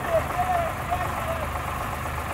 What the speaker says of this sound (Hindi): तीन ट्रैक्टर हैं, इनका स्पीड टेस्ट करेंगे